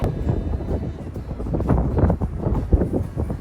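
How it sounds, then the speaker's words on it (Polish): Strong wind buffets the microphone in uneven gusts, producing a loud, rumbling roar that surges and fades. "Mamy dzisiaj taki wiatr"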